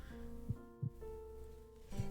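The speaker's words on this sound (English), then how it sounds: "there's a sound effect of a heartbeat" Heartbeat sound effect from the video game Higurashi: Kageboushi: soft, low thumps recurring at irregular spacing over a quiet sustained musical drone.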